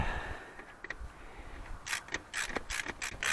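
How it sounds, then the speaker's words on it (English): Ratchet wrench tightening a 13 mm nut with a lock washer onto the alternator stud of a Dodge Ram 2500 6.7L, heard as close, quick bursts of clicking strokes in the latter half after a quieter start. "We'll put our lock washer and our nut, which is a 13 mil, on there. Tighten it up."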